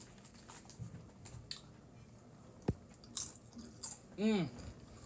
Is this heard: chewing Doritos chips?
yes